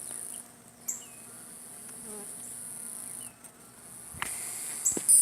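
Honeybees buzz around an open hive during a spring inspection, a steady insect drone with a few sharp knocks and handling clicks near the end.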